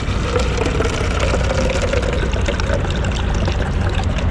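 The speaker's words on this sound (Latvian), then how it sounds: "Bišķi ūdeni pieliešu un ledu." Water poured over ice in a truck cab, a steady continuous splashing pour that runs loud and close throughout the whole stretch with no pauses.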